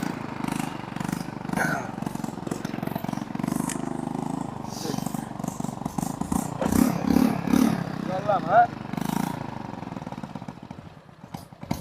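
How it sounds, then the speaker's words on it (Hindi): A motorcycle engine runs steadily and close by at a club ground in India, with a low continuous rumble under background voices and crowd noise. "ये वाली बाइक है जिसमें हम लोग जाने वाले हैं"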